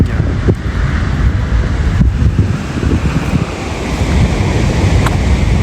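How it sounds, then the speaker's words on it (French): Ocean waves roll and break heavily on the shore at Bajamar, Tenerife, a loud continuous surf roar with gusting wind buffeting the microphone. "Toujours des belles vagues."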